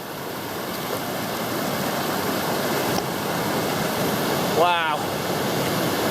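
Fast-flowing Wairua River rushing steadily and loud close by during a river crossing on the Te Araroa trail, a continuous broadband roar with a brief voice exclamation near the end.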